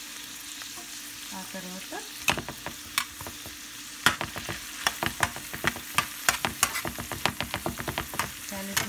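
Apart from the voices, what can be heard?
frying onion rings and vegetables in a pan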